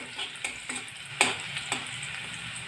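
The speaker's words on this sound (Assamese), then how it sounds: "পিঁয়াজখিনি ব্ৰাউন কালাৰ অহালৈকে ভাজিব।" Chopped onions fry in a pan with turmeric, giving a soft continuous sizzle close by, punctuated by several crisp clicks and ticks from the spatula or popping oil, with no voices.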